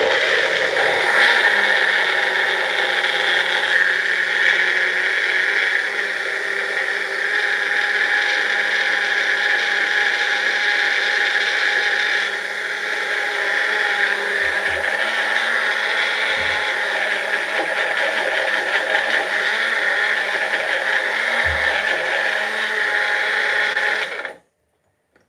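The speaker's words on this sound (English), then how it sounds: "now let's blend it for 2 to 3 seconds" Blender whirring steadily while blending raw green juice, a loud continuous high-pitched motor drone lasting about 24 seconds before cutting off abruptly.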